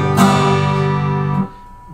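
A guitar is strummed down and up in quavers, ringing full chords close by that fade after about a second and a half.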